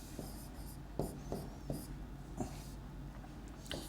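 Writing a chemistry reaction on a board during an organic chemistry lesson, a series of faint scratchy strokes and taps in an irregular rhythm over a low room hum.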